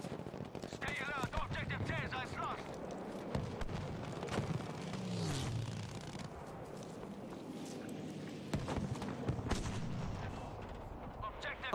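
A tank fires and explosions erupt in the Battlefield V game, with repeated heavy booms and gunfire rolling over a dense battle din while players talk over the action.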